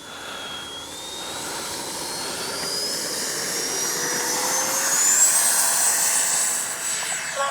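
Freewing 80mm T-33 Shooting Star RC jet with an 80mm electric ducted fan spools up for takeoff, a loud steady whine climbing in pitch over several seconds with broadband air rush, no talk.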